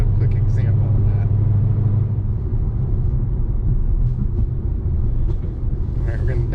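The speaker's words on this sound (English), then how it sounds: "if you're just cruising along and you punch it, you just break them tires loose like crazy" A Ford Mustang Boss 302 with new mods accelerates in second gear, a loud low engine rumble and road noise dominating throughout while a person talks over it.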